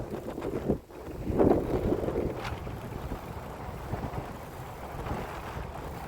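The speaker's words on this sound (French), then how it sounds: "je sais pas pourquoi le vent il s'est levé d'un coup là" Wind picks up outdoors near a boat on the water, a steady low rushing with gusty microphone buffeting that swells early on, then holds as a continuous blustery roar with no talking.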